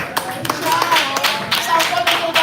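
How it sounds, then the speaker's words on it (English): Audience applause at a live send-off event for a Miss World contestant, a dense burst of clapping with sharp hand claps standing out, close and steady for a couple of seconds, with voices mixed in underneath. "Let's all give her a warm round of applause."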